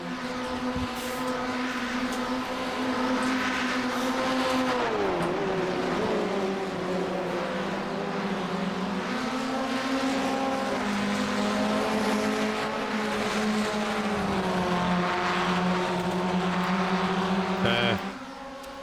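Formula Ford race cars in a sim racing game, several engines droning continuously close together, pitch sweeping down and back up through gear changes and corners, with occasional tyre squeal and no talk over it.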